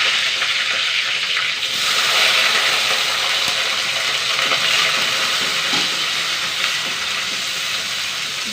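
Shallots, curry leaves and two dried red chillies fry in hot oil with popped mustard seeds, giving a loud, steady, close sizzle and hiss that runs unbroken for the whole stretch with no talking.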